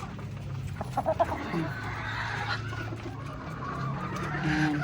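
A pure McLean gamefowl rooster, sire of a farm's stags, clucks in a short cluster of low bursts over a steady barnyard background, fairly close, with no one talking.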